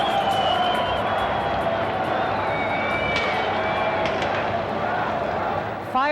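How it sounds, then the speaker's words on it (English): Crowd celebrating in Moscow at 3 a.m. after Gorbachev's return from the 1991 coup, a steady wash of cheering and distant shouting with faint crackles of fireworks and occasional whistles. "Fireworks and cheering at 3 o'clock in the morning as the Soviet people celebrate the return of Mikhail Gorbachev"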